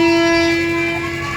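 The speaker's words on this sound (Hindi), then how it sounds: "फिर काफ़ी देर तक वेट करने के बाद इसने हॉर्न बजाया" A toy train at a fair sounds its horn in one sustained, loud, steady tone that holds for over a second with nothing else around it.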